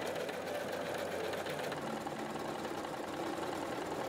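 A sewing machine stitches a seam around a lined fabric drawstring bag, running as a steady, continuous mechanical hum and rapid needle chatter close by, with no talking.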